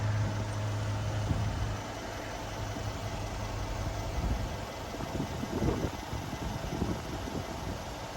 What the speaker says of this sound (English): Now I'm gonna lower the car.